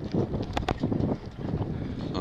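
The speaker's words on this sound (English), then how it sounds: "Very brisk and breezy out here on the dock." Brisk morning wind buffets the microphone on a dock at Lake Otsego, a steady rumbling gust noise with a few brief knocks, loud and close throughout.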